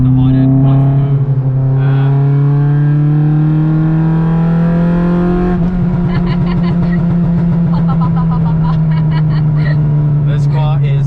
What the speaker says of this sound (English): This car is the absolute meaning or the definition of a hooligan. It is absurdly loud.